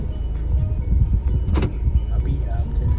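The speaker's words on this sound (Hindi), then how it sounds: "हम अपने गाड़ी को निकाल रहे हैं" A car pulls out of a parking spot in Daman at the start of a drive to Umbergaon, its low engine rumble steady and close, with people talking over it.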